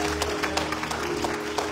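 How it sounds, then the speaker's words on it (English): Congregation clapping hands in praise at the close of a church service, a dense steady wash of many hands with faint rhythmic accents throughout. "clap those hands and give God praise"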